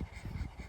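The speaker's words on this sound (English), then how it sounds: "the cattle dog" A cattle dog pants in quick, rhythmic breaths close by, soft and steady with no other sounds.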